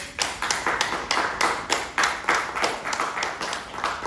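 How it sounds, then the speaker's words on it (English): Applause from a small group of teachers at a training session, a few people clapping in loose, uneven bursts at close range with no voices. "Thanks for your exuberant applause, Ben"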